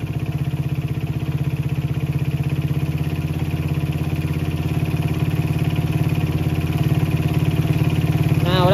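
A motorcycle engine idles steadily during a carburetor air screw adjustment, with a close, even, pulsing putter that holds constant throughout.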